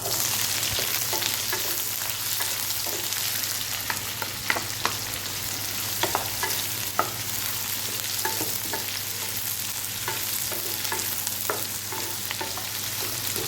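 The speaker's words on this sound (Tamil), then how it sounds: "இப்போ பூண்டை போட்டுடலாம் வெங்காயத்தையும் போட்டுடலாம்" Garlic and onions frying in a pan after urad dal has turned golden, for a spicy kara chutney: a continuous close sizzle broken by regular spatula scrapes and clinks as the mix is stirred, no voices.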